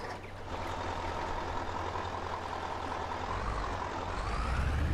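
A Fiat truck with a small sleeper cab starts up in Farming Simulator 22, a loud diesel rumble that builds and steadies into an idle, with a slight rise in engine noise toward the end.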